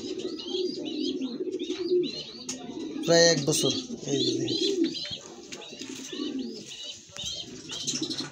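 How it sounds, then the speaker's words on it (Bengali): A long-distance racing pigeon coos close by in repeated low, rolling phrases, with chirpy bird calls above. Someone speaks briefly over it partway through. "এটা লং ডিস্টেন্সের কবুতর"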